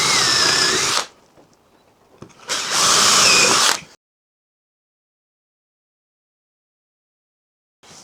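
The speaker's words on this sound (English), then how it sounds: "I'm going to drill into the corners and then use the bandsaw again to cut down to those." A power drill bores into the corners of a wood piece in two loud, sustained bursts, each lasting about a second, with a short near-silent gap between them and silence afterward.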